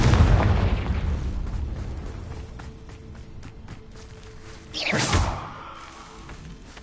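A booming fiery blast from the Confringo spell in the wizarding game Hogwarts Legacy, a loud burst with a whooshing swell that decays into rumble, following an earlier heavy boom.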